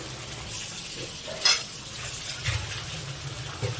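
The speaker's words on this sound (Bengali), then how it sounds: "টমেটো সব দিয়ে পেস্ট তৈরি করে সেটা কড়াইতে নাড়ানো হচ্ছে" Tomato spice paste sizzles and scrapes in a hot wok as it is stirred, with a few soft metallic clinks between steady frying hiss.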